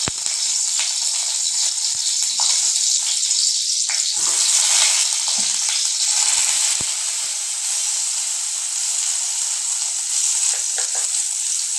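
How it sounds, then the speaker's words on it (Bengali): Eggplant pieces dropping into hot refined oil, with a loud bright sizzle that flares early and then holds steady, broken by a few clicks and stirring knocks, no one speaking. "বেগুনগুলো দিয়ে দেবো।"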